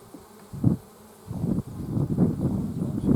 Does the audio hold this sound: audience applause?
no